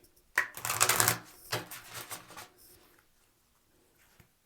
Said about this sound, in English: We'll shuffle the cards this way 3 times, cut the deck